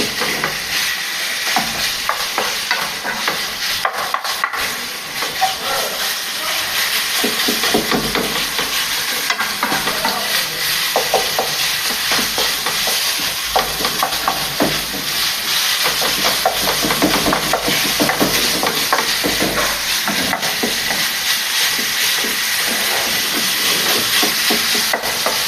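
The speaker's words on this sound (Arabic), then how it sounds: "كنخليو الكفته تطيب مزيان" Kefta meatballs frying in a pan with only a little oil, giving a steady, close sizzling hiss that runs without a break, with no voices.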